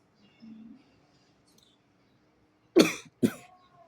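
Two sharp coughs in quick succession ring out after a brief faint murmur, with quiet in between.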